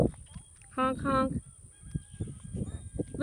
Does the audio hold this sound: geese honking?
yes